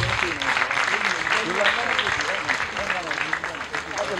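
An audience at an albinism awareness event applauds a woman as she is welcomed, with thick, continuous clapping and voices mixed in throughout.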